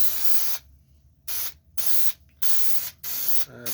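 An aerosol can of spray adhesive hisses in four short, sharp bursts separated by brief pauses, close by, while carpet pad is installed in a custom C10 truck.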